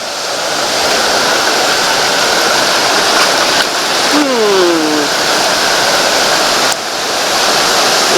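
Deep, fast stream water at Lena Lake rushes in a loud, steady broadband roar from start to finish, close by, with a brief high bird call rising over it midway.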